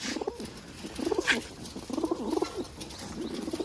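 Pigeons coo in soft, throaty, repeated phrases that rise and fall in a steady rhythm, close by, with faint bird chirps in the background; flying (baazi) pigeons.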